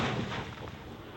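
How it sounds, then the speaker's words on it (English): Mortar loaded with explosives firing a paint can as a projectile, a single loud close blast with a heavy low boom decaying over about a second. "Put a paint can in the mortar to give it a projectile"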